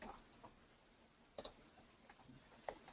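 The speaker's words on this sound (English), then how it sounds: "I click on the space bar and hold the control keys till I see" Computer keyboard keys click faintly and sparsely, with a couple of sharper taps in the middle and a few soft ones near the end, in a quiet room with no talk.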